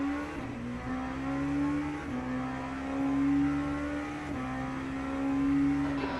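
A loud, steady V8 engine note from a race car in the F1 25 video game holds a high whine. There are small dips at the gear shifts, and it climbs again with no talk over it.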